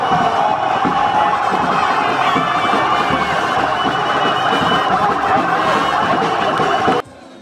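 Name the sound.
jubilant crowd welcoming the governor in Jos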